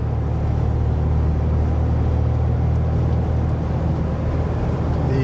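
The engine of a 2010 RAM 2500 truck fitted with a different muffler gives a steady, loud, low grumble that holds unchanged throughout with no talking.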